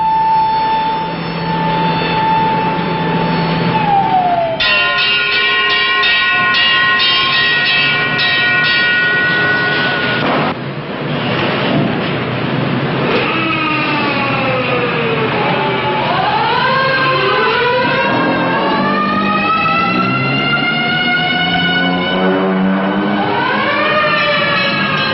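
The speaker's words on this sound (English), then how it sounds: "the banshee wail of the siren echoes the warning" An air-raid warning siren wails over a city, its pitch rising and falling in long sweeping glides that echo and overlap, loud and continuous throughout.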